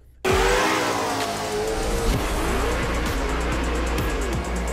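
A Corvette C5 engine revs hard and steadily, a loud, close, sustained roar with pitch rising and falling through repeated sweeps, no voices.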